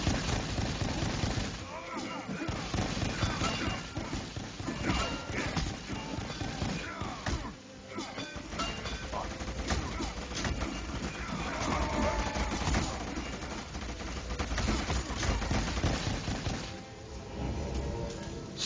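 Bursts of gunfire in the Savage 2 multiplayer game, rapid volleys and scattered shots rattling through a busy battle mix, with a voice talking over the action.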